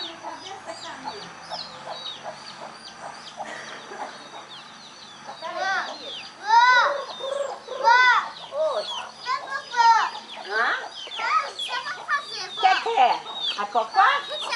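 Backyard chickens cluck and squawk repeatedly, the calls growing louder and denser after a quieter start, with children's voices and activity around them.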